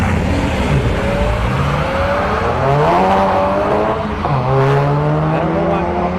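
A Volkswagen Golf GTI drag races at Bradenton Motorsports Park, with loud engines revving and climbing through gear changes as cars launch down the strip, under crowd noise.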